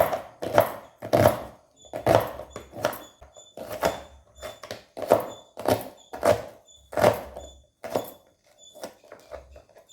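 A knife cutting a vegetable from the tip on a board in a home kitchen, a series of distinct close thunks in an irregular rhythm, about a dozen strokes.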